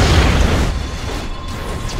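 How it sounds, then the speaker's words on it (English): Heavy explosions from an artillery bombardment in the Red Alert 3 strategy game, a dense, continuous low rumble of booms that is loudest at the start and slowly thins out. "Bombardment underway."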